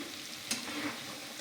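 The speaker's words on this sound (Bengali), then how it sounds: "এবার বড়াগুলো আমি ছোটো ছোটো করে বড়া ভেজে নেব।" Chana dal and ridge gourd fritters fry in oil in a soft, steady sizzle with one brief sharp crackle, fairly quiet and continuous, no voices.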